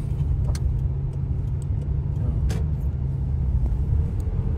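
A worn-out old Honda car engine runs with a steady, loud low rumble close by, broken only by brief clicks and knocks.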